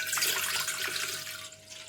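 Water poured into a cooking pot to make ragi porridge, about four glasses' worth, giving a steady close hiss of running water that eases off toward the end.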